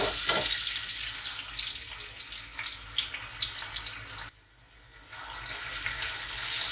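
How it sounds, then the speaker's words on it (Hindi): Onions browning in hot ghee for mutton moti pulao give off a steady, dense sizzle and crackle that drops out briefly for under a second, then returns just as full. No voices. "मैं पुलाव या घी जब थोड़ा गर्म हो जाए तो आप इसमें प्याज ब्राउन कर लें।"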